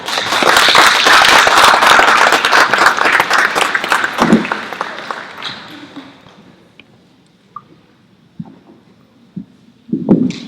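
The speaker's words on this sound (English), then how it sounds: "big round of applause, first of all, for you getting here, and for the reason why we're here for this book today" Applause from the crowd at a book launch in San Jose Japantown, loud and dense for about four seconds, then tapering away over the next few, with a few scattered claps and small noises afterward.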